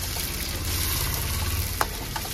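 Onions frying in a pan for chana masala give a soft, steady sizzle with a low rumble beneath and one sharp clink near the end, fairly quiet and without voices.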